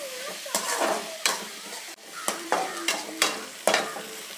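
Sliced onions sizzle in a hot pan with a pinch of salt while a spoon or spatula stirs them, a steady frying hiss broken by regular scraping strokes every half second or so, close up and with no voices.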